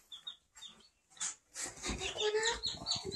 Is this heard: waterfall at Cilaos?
no